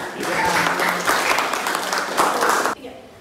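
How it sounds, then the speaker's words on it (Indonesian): Students in a university law class applauding a presenting group, a dense, lively round of clapping with some voices mixed in, cutting off abruptly near the end. "Tepuk tangan untuk kelompok ini"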